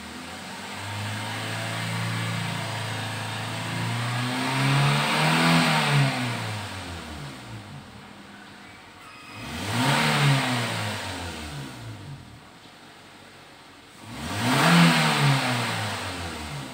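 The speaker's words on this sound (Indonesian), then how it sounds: "saatnya kita gember gas untuk menendang sisa kerak karbon dari ruang bakar ya" A 2015 Toyota Avanza Veloz engine is revved hard after a carbon-cleaning treatment, giving three long rising revs that peak and fall back to idle, loud and close with no talking.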